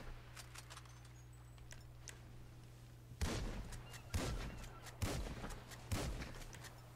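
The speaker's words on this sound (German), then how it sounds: "schieß mal eine Leuchtrakete ab" In GTA Online, a series of four sharp firing bursts come about a second apart, fairly faint and distant, over a steady low hum.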